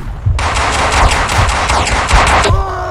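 Rapid automatic gunfire in the Max Payne 2 video game, a dense, loud, continuous burst lasting about two seconds, with sharp cracks blurring together before cutting off.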